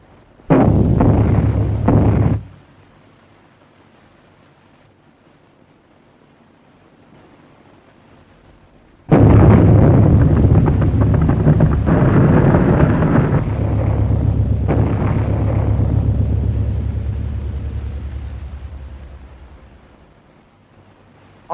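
Heavy booming explosions from bombs dropped in an aerial bombing scene of a 1930 war film: a short loud blast, a quiet gap, then a long rumbling detonation that slowly fades away.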